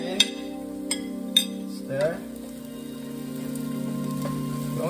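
Minced garlic dropped into a frying pan of cooking shallots, sizzling in a continuous close hiss, with a few light clinks of a utensil against the pan early on.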